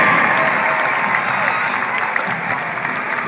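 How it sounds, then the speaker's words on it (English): A crowd at an ice hockey game in Cincinnati applauds the mascots with steady clapping and some cheering, a broad roar of hands that holds throughout. "How about a round of applause for all our mascots participating here today?"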